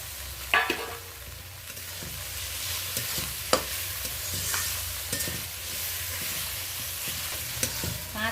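Masala paste with ginger paste, green chili, onion and tomato sautéing in oil in a pan for a Bengali fish curry: a steady close sizzle broken by sharp scrapes and knocks of a spatula stirring and clanking against the pan.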